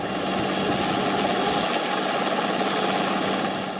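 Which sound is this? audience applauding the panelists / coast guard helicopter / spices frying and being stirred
coast guard helicopter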